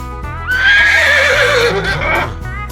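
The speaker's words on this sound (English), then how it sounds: "Here's a horse." A horse gives a loud, close whinny that rises sharply, wavers in a long sustained neigh, then trails off into a fading snort, heard alone.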